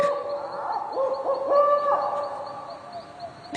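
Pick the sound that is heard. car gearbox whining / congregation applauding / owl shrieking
owl shrieking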